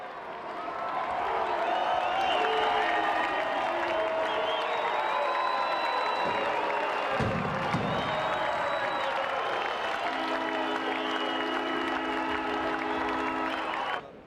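Large stadium crowd before a 1995 NTFL Australian football game against Fremantle, a broad sustained roar of applause and cheering with whistles and a commentator talking over it.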